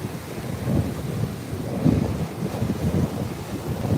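Loud, continuous surf roar from waves breaking on a beach, with rolling swells of broadband noise and heavy wind buffeting the microphone throughout; no voices.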